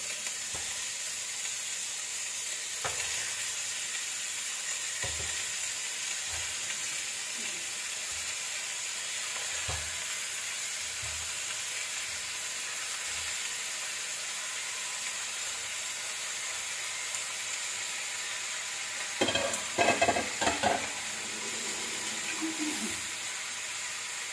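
Chicken fries in a pot for tinola, giving a steady close hiss and sizzle with a few soft knocks. A brief louder clatter comes near the end.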